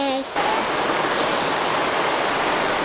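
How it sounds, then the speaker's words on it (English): Water rushing in a big creek at a forest campground in Virginia, a loud steady broadband roar that begins abruptly after a brief moment and continues unbroken, close by with no talk. "It's probably a big creek."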